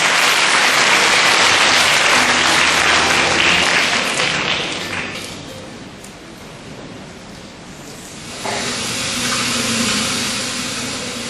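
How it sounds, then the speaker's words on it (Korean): Loud applause from an audience welcoming the third team, a beekeeping monitoring project group, at a presentation event; dense clapping fades in the middle, then swells again toward the end. "세 번째 팀 레디비 큰 박수로 맞이해 주시기 바랍니다"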